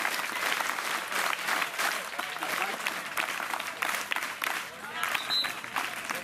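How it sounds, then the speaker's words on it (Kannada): A crowd at a public event breaks into sustained applause, dense, loud clapping that carries on steadily for several seconds with a faint murmur of voices mixed in. "ನಮ್ಮ ಡಿಪಾರ್ಟ್ಮೆಂಟ್ ಚಪ್ಪಾಳೆ ಹಾಕಿ."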